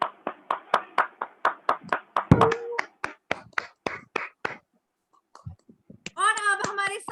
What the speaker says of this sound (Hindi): वाह क्या बात है, जोरदार तालियां साक्षी सिंह।